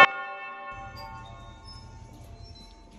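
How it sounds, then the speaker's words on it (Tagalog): A single doorbell chime rings out sharply at the start and fades over about a second, followed by a low rumble in a quiet room. "doorbell ka ng doorbell"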